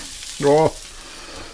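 Water splashed into a hot pan of ghost pepper sauce flashes to steam, a sudden loud sizzling hiss that lasts a fraction of a second and then fades into quieter crackle, with a brief voiced exclamation over it.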